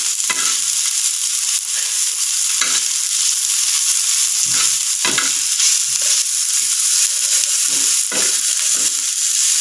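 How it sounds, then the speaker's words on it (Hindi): Onion and green chili frying in a pan for a spicy omelet: a loud, dense, continuous sizzle with repeated scraping stirs of a spatula close by, no voices. "थोड़ा सा ब्राउन कलर आने तक हम प्याज को और हरी मिर्च को भूनेंगे।"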